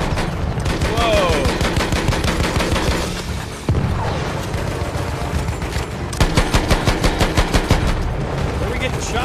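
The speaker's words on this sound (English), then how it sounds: "Where are we getting shot from?" Rapid automatic gunfire and bursts of shots fill a Battlefield 1 multiplayer battle, dense and loud throughout with brief pauses, while a player talks over the combat.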